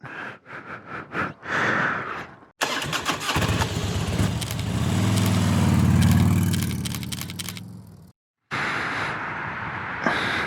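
A 2020 Harley-Davidson Road Glide Special is started on a cold December day: a few clicks and short cranking bursts, then the V-twin catches with a swelling mid-range rumble that settles before a brief gap and more mechanical noise, close and clear.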